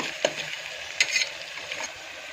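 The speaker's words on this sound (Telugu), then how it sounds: "ఆనియన్స్ ఇలా వేయించుకోండి" Onions sizzle in a pan for a taro-root curry, a bright, close frying hiss broken by a couple of sharp clinks and scrapes as they are stirred.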